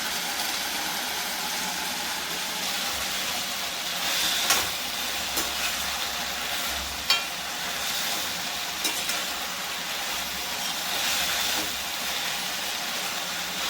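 Cashew nuts frying in oil in a pan with other ingredients, a steady soft sizzle throughout with faint stirring clinks now and then, no talking.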